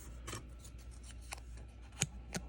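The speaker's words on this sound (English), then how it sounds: "I'm going to have to use these scissors." Small scissors snip a little piece for a custom die-cast model car, giving several crisp, close cuts spaced irregularly over a quiet background.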